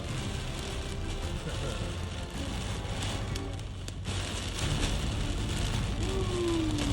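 Heavy rain drums steadily on a car driving through a storm on the way home in Lamphun, Thailand, a dense, loud wash of noise with road rumble underneath and a voice faintly under it.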